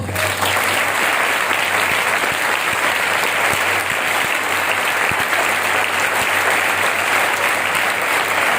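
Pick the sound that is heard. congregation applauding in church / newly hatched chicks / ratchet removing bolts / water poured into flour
congregation applauding in church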